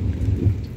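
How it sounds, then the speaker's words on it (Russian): Heavy rain downpour in Jerusalem, a steady dense rumbling wash of falling water, close and continuous over a very brief moment, with no voices. "дождь не прекращается, как видите"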